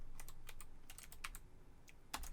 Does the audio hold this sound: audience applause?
no